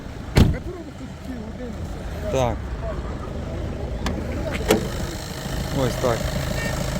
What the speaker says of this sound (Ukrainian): Працює, двигун дуже економічний.